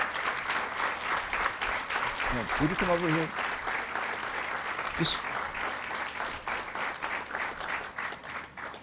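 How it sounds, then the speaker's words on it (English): Sustained audience applause at an award presentation for a senator, with dense clapping filling the whole stretch and someone briefly speaking over it. "Give them a nice round of applause."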